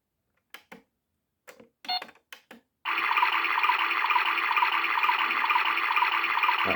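A toy washing machine beeps and clicks through a few quick button tones, then starts filling, with a steady loud rushing, whirring water-fill sound running continuously to the end.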